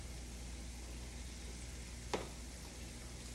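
Vegan curry with ginger sautéing in a pan gives off a faint, steady sizzle throughout, with one brief clink of a utensil partway through.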